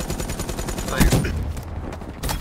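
Rapid automatic gunfire in a video game rattles in a fast, loud, continuous burst with a heavy boom in the middle, and a game voice speaks over it.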